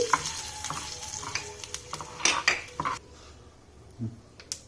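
Curry leaves drop into hot oil for a tempering, with the flame switched off, for a peanut chutney. Brief crackling sizzles and spatters mix with a spoon scraping and clinking against a small metal pan, then fade to quiet with a few last pops.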